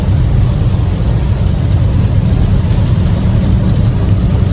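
A V6 car drives on a rainy highway, producing a loud, steady wash of tire spray and road rumble with engine drone underneath, continuous and close.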